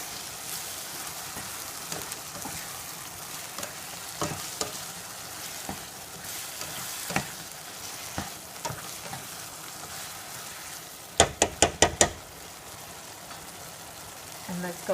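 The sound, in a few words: tomatoes and onions frying in a pan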